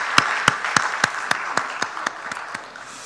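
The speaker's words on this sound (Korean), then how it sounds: "박수하겠습니다." A church congregation claps together in a crisp, evenly spaced rhythm of about a dozen beats, steady at first and gradually softening.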